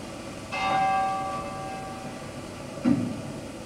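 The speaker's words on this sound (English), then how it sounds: "on the command of the tower captain, which is this old guy here, Ezekiel, they're going to start ringing the bells" Rope-rung church tower bells strike twice, a resonant clang with a long humming decay followed by a second, softer stroke a couple of seconds later, heard from fairly close.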